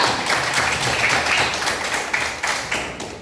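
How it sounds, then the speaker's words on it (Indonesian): Brief round of applause in a classroom, many hands clapping together in a dense patter that tapers off after a few seconds. "Oke, tepuk tangan juga."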